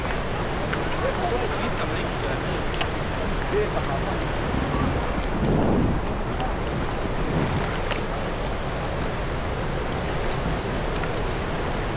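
Rough water churning and splashing under strong gusting wind in a storm, a constant broadband roar with a brief louder surge midway.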